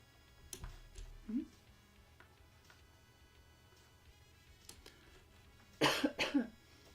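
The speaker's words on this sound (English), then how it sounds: "So I had to do a little cough." A few short, sharp coughs close by: one brief cough early, then a louder cluster of two or three coughs near the end, with quiet between.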